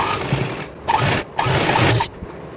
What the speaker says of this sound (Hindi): एक हम इस पर प्रेस सिलाई लगा देंगे।